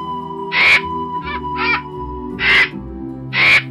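A crow caws four times in an animated children's moral story, loud harsh close calls spaced about a second apart over a low, steady musical background.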